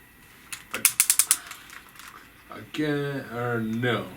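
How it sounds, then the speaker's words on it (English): Ratchet joints on the thighs of a FansToys FT-06D Sever figure, a third-party Transformers Snarl, give a quick run of about six sharp plastic clicks up close, followed by someone talking. "superposable thighs with super crazy ratchets"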